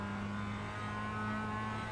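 Race car engine in the iRacing sim, a steady mid-pitched drone with strong low harmonics running continuously and loud, without any talk over it.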